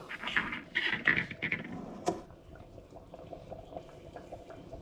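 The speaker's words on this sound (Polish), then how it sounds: "Tutaj nasz partykiel się cały czas gotuje." Fishing bait particles boil steadily in a pot, giving a continuous soft bubbling and pattering with a few louder pops early on, then settling into a quieter simmer.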